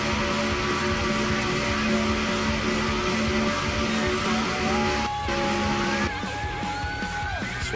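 Race cars roaring around a track during a close pack race, a dense steady engine drone near and loud throughout with rising whines of passing cars toward the end.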